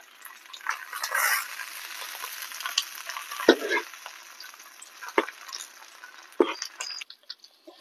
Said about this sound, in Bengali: এটাকে 15-20 মিনিট ধরে সেঁকতে হবে, মাঝে দুবার উল্টে দিতে হবে